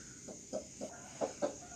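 A brooding hen clucks in a coop room kept for hatching eggs, giving four soft, close clucks at roughly even intervals over a faint steady background hum.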